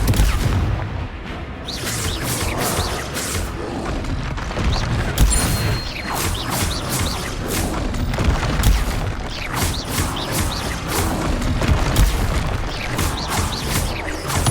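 Repeated Confringo blasting spell explosions during combat in Hogwarts Legacy, dense booming blasts and crashes overlapping continuously at steady high loudness with game effects throughout.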